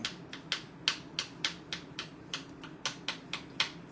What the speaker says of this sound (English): And then I just kind of chop it up.